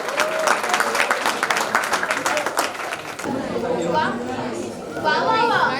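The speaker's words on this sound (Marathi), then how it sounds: "जोरदार टाळ्या होऊन जातो" Loud, brisk applause from an audience at a student tutorial annual function, dense clapping for about three seconds that fades into crowd chatter and cheering voices.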